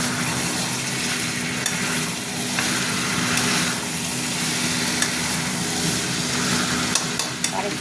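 Garam masala and other spices fry and sizzle in a pan for a spicy red chicken curry, with steady, close hissing and occasional stirring scrapes throughout and no voices.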